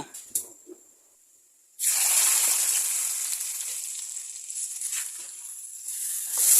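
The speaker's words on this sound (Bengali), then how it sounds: "সিদ্ধ করে রাখা ডাটাগুলোর মধ্যে আমি এখন বাগাত দিয়ে নেব" Tempering of onion and garlic fried until pink is poured over boiled katora stalks in a pan, bursting into a loud, steady sizzle after a brief quiet moment and hissing on, easing slightly before swelling again.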